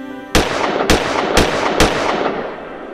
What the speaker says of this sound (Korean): 경교장에 총성 4방이 울렸다